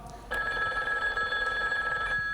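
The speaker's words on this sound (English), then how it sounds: "That'll be the phone, Daryl." A telephone bell rings steadily and loudly indoors, a continuous electronic trill starting after a brief quiet moment and holding for about two seconds.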